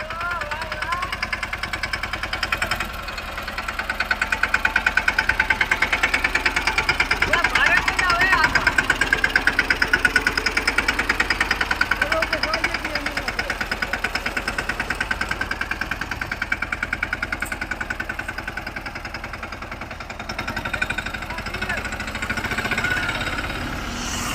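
A new tractor engine runs steadily with a smooth, even drone and faint knocking, held at constant loudness throughout with no talking.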